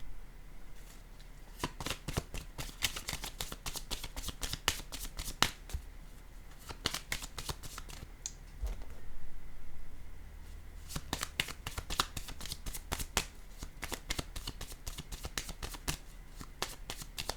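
Tarot cards riffled and shuffled by hand in close, crisp bursts of rapid flicking clicks, with pauses in between and a low steady hum underneath.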